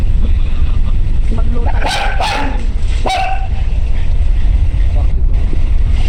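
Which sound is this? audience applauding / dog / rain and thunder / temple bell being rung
dog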